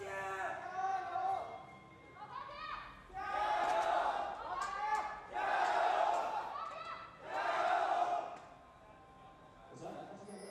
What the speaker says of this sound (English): The crowd's cheering ready.